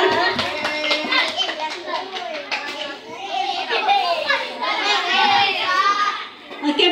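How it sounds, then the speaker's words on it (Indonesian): Fifth-grade schoolchildren clap for their classmates during an outdoor study visit at a regional disaster management office, the hand claps mixed with lively children's chatter and voices throughout, busy and close. "Tepuk tangan buat teman-temannya ya."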